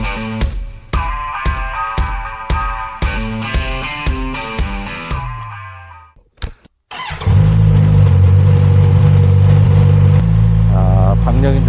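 A Kawasaki Z900RS SE motorcycle engine fires up close by after a run of evenly spaced tones, then settles into a loud, throaty idle with a brief rise in revs near the end.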